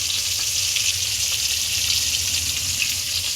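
Fish sizzles in hot oil close by, a continuous, dense hiss that holds steady and moderately loud from start to finish with no talking.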